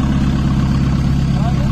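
A 1.9-litre car engine idles close by, a loud, steady low rumble with an even throb throughout the short stretch.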